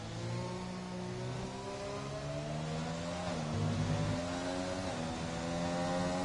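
A Red Bull Formula 1 car in the F1 2020 video game laps the Great Britain circuit, its high engine whine rising and falling through gear changes, with a clear downshift dip midway.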